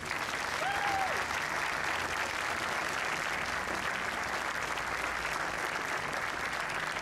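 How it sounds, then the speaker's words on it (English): A hall dedication audience applauds alumni in steady, dense clapping that fills the whole room, unbroken throughout and heard alone. "I ask these alumni please stand at this time so we may recognize you with a round of applause."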